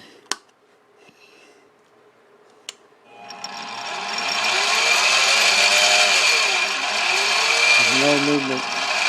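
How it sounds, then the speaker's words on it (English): A mini milling machine's spindle spins up after a couple of sharp clicks, settling into a loud, steady high whir that holds for several seconds, with a voice talking briefly over it near the end. "If I start up the spindle"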